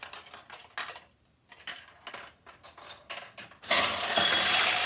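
A ball runs through a 1974 Nishijin vintage pachinko machine, heard as quick metallic clicks, rattles and ticks, ending in a sustained bright jangling rush.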